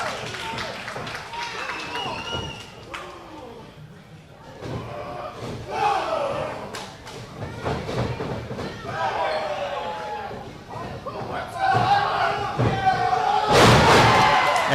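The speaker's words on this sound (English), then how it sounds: "Man, that was Travesty hitting right with a big body slam." Wrestler hits a heavy body slam on the ring mat amid a lively crowd, with thuds and shuffling impacts, shouts and cheers rising and falling, and a commentator talking throughout.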